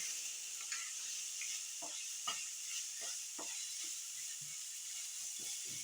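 Onions sizzling in hot oil in a pan, a steady close hiss with scattered scraping and stirring knocks of a spoon, no talking.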